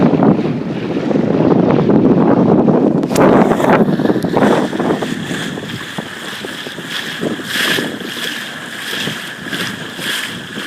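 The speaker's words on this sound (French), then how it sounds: "Moi j'adore le bruit de l'étrave." Water rushing and splashing against a sailboat's bow under gusty wind noise, a continuous hiss rising and falling as the boat moves.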